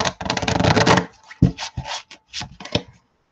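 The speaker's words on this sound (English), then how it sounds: "I cannot shuffle them the way I want to shuffle them." Quick riffling and shuffling of an oblong oracle card deck, a dense burst followed by several separate soft slaps and taps, close up, with no talking.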